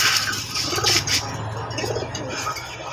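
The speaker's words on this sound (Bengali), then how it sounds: "এই হলো কবুতরের পেয়ারটা" A pair of fancy pigeons coo on a farm, a soft low rolling murmur close by over a steady background hum, with scattered brighter bird chirps and no voices.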